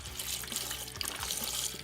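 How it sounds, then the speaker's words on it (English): Chicken broth pours steadily into a pressure cooker pot, a continuous liquid splash and gurgle lasting the whole moment, close and fairly loud with no talking. "Any kind of chicken broth, or you can even make your own by mixing some water and some chicken bouillon"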